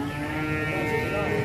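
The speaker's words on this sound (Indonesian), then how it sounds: "Raca Aladin, sapi raksasa." A giant cow of nearly one ton, a sacrificial bull kept for Qurban, lets out one loud, sustained moo, close up and filling the whole moment.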